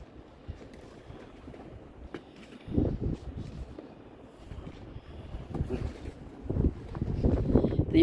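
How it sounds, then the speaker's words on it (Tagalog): Gusty wind buffets the microphone in rising rumbling bursts, growing stronger toward the end, with a faint outdoor background. "Malakas ang hangin."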